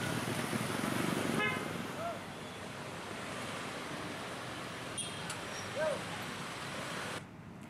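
Dense road traffic on the congested Cianjur–Bandung route during a one-way diversion from KM 47 of the Cikampek toll road: a steady wash of passing vehicles with a few short car horn toots.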